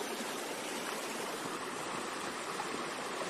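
River water rushing continuously in a broad, even hiss, close up, from a stream in the hills of Ranikhet, Uttarakhand, where the flow has been joined into one channel.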